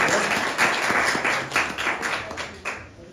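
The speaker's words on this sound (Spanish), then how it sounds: "Hoy un aplauso para los entrevistadores" Audience applause for the interviewers at a live conversation event, a brief burst of mixed clapping that swells and then gradually fades over a few seconds, with no speech over it.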